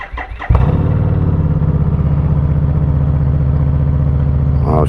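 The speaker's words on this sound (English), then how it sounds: "let's fire this baby up." A Harley motorcycle that has sat unused for about two weeks cranks briefly, then fires up into a loud, steady, close-up rumble.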